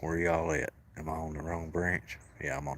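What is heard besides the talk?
None of the usual background noises is heard.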